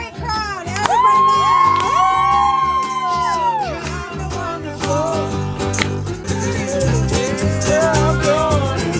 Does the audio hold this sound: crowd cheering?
yes